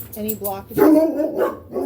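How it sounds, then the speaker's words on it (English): Dogs barking indoors, several sharp nearby barks and yips overlapping a person speaking during a tarot card reading. "Sorry about the dogs."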